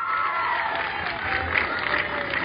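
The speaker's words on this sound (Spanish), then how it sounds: "Fuerte el aplauso para Briana Itzel González Estrada," Applause from a school assembly crowd at a secondary school flag ceremony in Altamira, Tamaulipas, a steady dense clapping mixed with crowd noise and a few cheers, moderately loud and continuous throughout.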